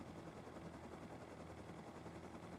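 A helicopter in the survival game Rust flies with a steady, continuous rotor drone and engine hum at an even level, without pauses and with no talking.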